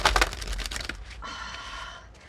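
A deck of tarot-style cards being shuffled up close, with a quick flurry of crisp riffling clicks followed by a softer, smoother sliding whir as the cards settle.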